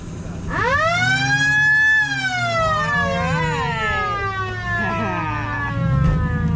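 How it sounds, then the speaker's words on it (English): A 1960s Ford police car siren winds up loudly, wails, then shifts into a fast warbling yelp, sounding right nearby. "you want to blow the siren"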